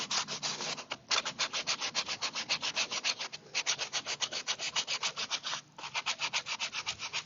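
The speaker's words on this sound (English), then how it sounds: "I get ready to use the sanding block in here" A sanding block rasps back and forth over wood in a steady, fast rhythm, close and fairly loud, with two brief pauses.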